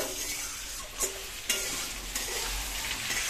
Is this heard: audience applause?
no